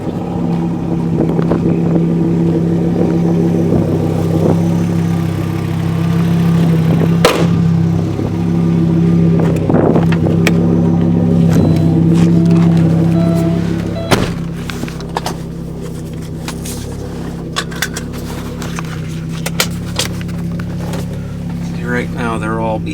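A 1990 Audi Coupe Quattro Turbo S2 drives down a road, its steady engine drone loud and close throughout, with a few thumps and a slight drop in pitch as it eases off partway through.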